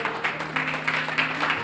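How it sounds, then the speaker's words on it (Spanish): A church congregation claps and applauds together, a continuous, moderately loud wash of clapping with a few swells, no voices over it. "¿Quién puede darle un fuerte aplauso a esa palabra fiel y digna?"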